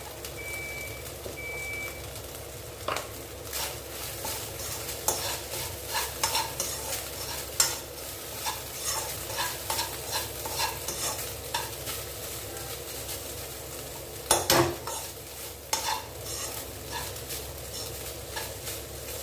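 Grated coconut is stirred into white sorghum sundal in a pan, with steady scraping and stirring over a soft sizzle and a few sharper clinks, close and fairly quiet, no talking.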